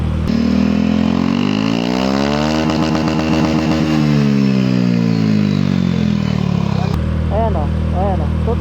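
A motorcycle fitted with a silencer revs up to about 2,500 rpm, its engine note climbing, holding, then falling back, loud and close with no other sounds.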